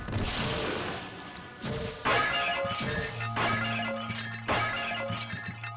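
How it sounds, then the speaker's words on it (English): Pottery shattering effects in the video game Ninja Gaiden Sigma, several loud crashes of breaking clay in quick succession amid game action and whooshing strikes. "old pottery shattering sound effect"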